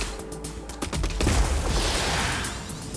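Bots firing at an enemy bot in the robot strategy game Gladiabots, a few quick shots followed by a booming blast and a sustained rushing, rumbling burst that fades out over about two seconds.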